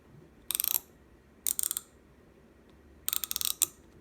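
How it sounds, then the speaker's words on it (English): A 40-tooth hand ratchet wrench clicking in three short bursts of rapid, crisp metallic ticks, close and fairly quiet, with silence between and no talk. "I believe that's a 40 tooth ratchet"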